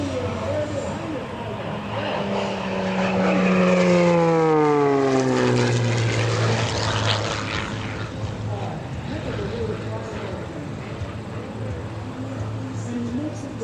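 Scott Francis's MXS aerobatic airplane dives at an airshow with a loud, continuous propeller-engine roar whose pitch sweeps downward as it passes close, then settles into a steady drone while an announcer talks over it.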